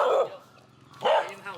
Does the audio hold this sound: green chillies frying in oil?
no